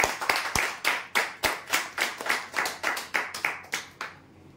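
A small group claps loudly in a regular, rhythmic beat at a prize draw ceremony, about a dozen close, crisp claps in even succession that stop abruptly, leaving a quiet room.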